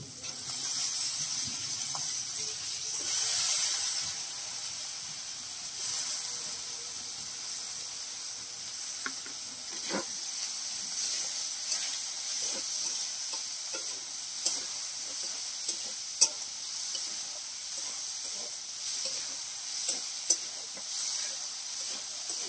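Spinach and masoor lentils sauté in a pan while being stirred, giving a steady sizzling hiss with scattered scraping and tapping of the spoon that grows busier toward the end. There is no speech.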